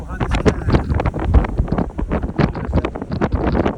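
Strong gusting wind buffets the microphone in a mountain blizzard with high winds and snow, loud and close, in rapid irregular blasts that continue without a break.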